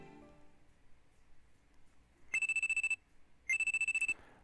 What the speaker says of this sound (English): Sleeping on the couch when a loud alarm rings in my ears.